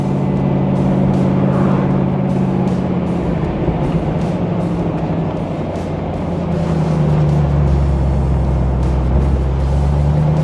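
Restored 1957 Chevrolet Corvette convertible cruising a country road, its engine a steady, fairly loud low drone with wind rush, shifting slightly in pitch midway as the car changes speed.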